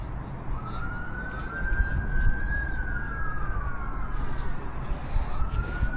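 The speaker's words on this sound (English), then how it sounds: "Please listen to the sirens." An emergency vehicle siren wails along a Newcastle street, rising and falling over a constant low traffic rumble, sounding fairly close and loud with no talking over it.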